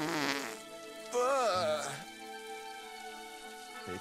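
A comic fart noise from a fart mushroom in the video game Silence rings out with a wobbling, pitch-bending squeal in the middle, set among other game sound effects and a sustained musical tone.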